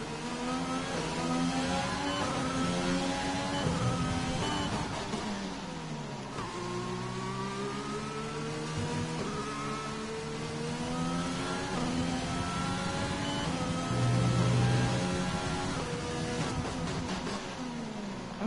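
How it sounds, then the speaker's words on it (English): A Formula 1 car engine in the F1 2020 video game, racing at the French Grand Prix, revs and shifts continuously, rising and falling in pitch with steady mechanical whine, loud and constant throughout with no pauses. "I'm having trouble hearing my engine over the fans"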